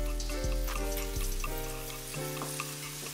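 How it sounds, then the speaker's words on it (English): Water poured into a hot pan of frying chicken, producing steady loud sizzling and spitting with brief bubbling bursts, close and without talk. "Add a little more water to it."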